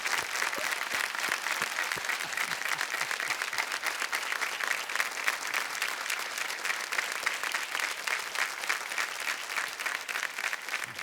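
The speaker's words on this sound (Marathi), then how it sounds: "टाळ्या वाजत राहायला पाहिजे." Studio audience applause on the KBC India quiz show set, a dense, steady roar of many hands clapping at full strength without a break, with no voices heard.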